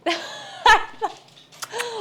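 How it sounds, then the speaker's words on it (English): Pet dogs being taken outside give short excited yelps and barks, close and mixed with laughter-like vocal sounds in a brief, busy burst. "our dogs are gonna go crazy"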